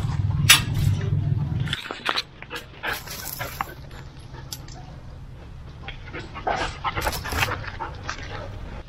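Several dogs panting, scrabbling and yelping as they play after being let out of their kennel, with a loud low rumble in the first two seconds and busy close-up activity throughout.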